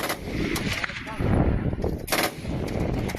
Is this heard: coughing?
no